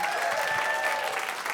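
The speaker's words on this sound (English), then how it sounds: "Let's give a round of applause to Chris Hamblin on piano" An audience at a music and poetry performance applauds the pianist, a dense, steady round of clapping heard alone throughout.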